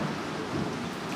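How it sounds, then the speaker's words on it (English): Low rolling thunder rumbles continuously, heard indoors at a distance with a soft rain-like hiss underneath. "And, Thunder."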